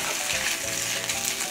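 Ground meat for a quick Bolognese sears hard in a pan like steak, browning on both sides, giving a loud, steady close-up sizzle and crackle with no talking.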